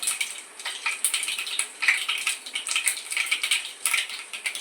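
Mustard seeds crackling in hot tempering oil, giving rapid irregular pops and light sizzling patter close by and steady throughout, with nobody talking.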